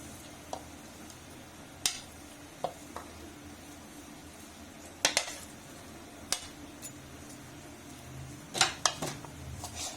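Chopped vegetables and spices for Pakistani potato pakoras are mixed in a bowl, giving quiet, scattered clinks and taps of a utensil against the dish over a low background hum.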